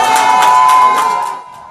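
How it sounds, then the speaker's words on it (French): A crowd cheers and shouts in welcome as a newly named Guinean prime minister leaves a residence, with loud whoops and voices overlapping close by and then thinning out and dropping off near the end. "c'est une foule qui l'accueille à sa sortie avec des ovations"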